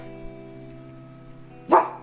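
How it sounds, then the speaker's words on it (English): A single short dog bark from the video game 428 Shibuya Scramble rings out near the end, loud and close over a steady musical background. "And there goes my dog again."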